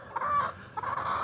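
Two bantam serama roosters cluck and crow close by in two short raspy bursts with a brief gap between them.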